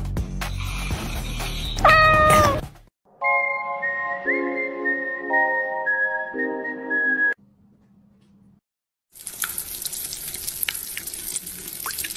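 A short rising-and-falling meow comes early amid noise, followed by steady electronic tones, a pause, then a hissing, crackling stretch.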